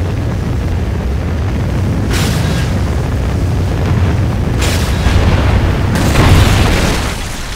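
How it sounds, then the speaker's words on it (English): A Trinity rocket strike explodes in Call of Duty: Ghosts, loud deep booming rumble that swells in repeated blasts and builds toward the end with no voices. "Enemy Trinity rocket sounded inbound."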